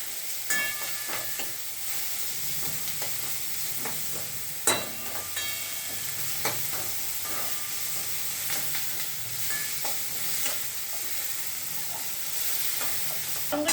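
Onion and garlic sauté in a small amount of oil for a soup: a steady, close frying sizzle and hiss with occasional scrapes and clicks of stirring, and no talking.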